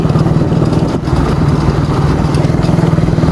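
A motorcycle engine drones steadily and loudly up close on a rural barangay road, a continuous low rumble with slight dips, no talk over it.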